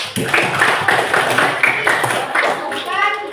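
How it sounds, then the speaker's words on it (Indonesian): A classroom of children clapping for a student group, a short burst of scattered, uneven hand claps with children's voices talking over it nearby. "Tepuk tangan dulu buat kelompok 4"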